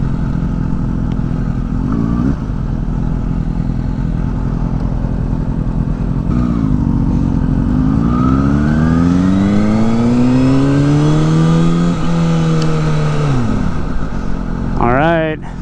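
Motorcycles ride along the Pacific Coast Highway on a motocamping trip, with a loud, close engine drone and rising, falling revs as the bikes accelerate and shift through gears. A voice talks over the engine noise.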